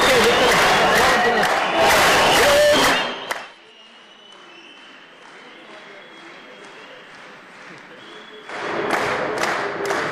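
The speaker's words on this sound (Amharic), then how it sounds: "ሞቅ ያለ ጭብጨባ" Warm applause and crowd clapping at an award ceremony, dense and loud at first, dropping away into a quiet room before scattered clapping rises again.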